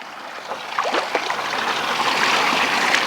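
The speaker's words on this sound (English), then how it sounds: "one of the things that I really wanted to do was get some water in here and get all of this sort of stirred up" Water running into a muddy duck pond on a Scottish farm, a steady gurgling trickle and splashing that grows louder and denser, with no talk.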